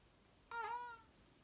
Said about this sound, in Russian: У нас вот эта кошка, но это уже не котенок.